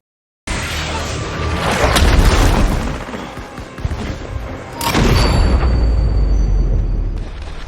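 Gunfire during a shootout in a war film: dense, loud bursts of shots and booming blasts roll on continuously, swelling twice into heavier barrages, with no voices heard.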